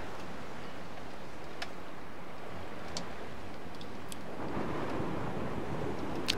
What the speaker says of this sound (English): I'm just listening to the waves and the ocean and the wind.